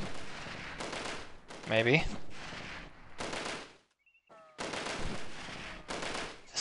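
Bursts of automatic gunfire from enemy soldiers in the Delta Force video game, crackling in several loud volleys with a short gap, over a player's voice.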